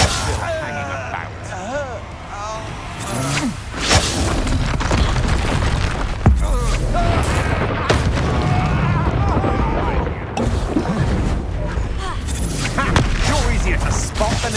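Blasting-spell explosions from a Hogwarts video game, with repeated deep booms and bursts over a constant loud rumble of game effects. Voices talk over the action.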